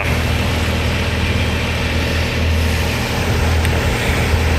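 A skid steer loader engine idles steadily at close range, a constant low rumbling drone with no breaks, heard alone without talk.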